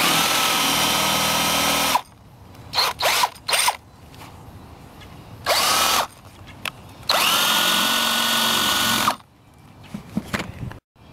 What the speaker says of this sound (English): So I'm going to go ahead and recess these holes and get some screws